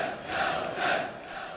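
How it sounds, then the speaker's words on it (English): A large, almost all-white stadium crowd at the 1995 Rugby World Cup chants Nelson Mandela's name, a loud, blended roar that swells and falls in two rhythmic waves from a distance. "the almost exclusively white crowd responded to Mandela's public statement of forgiveness by chanting his name"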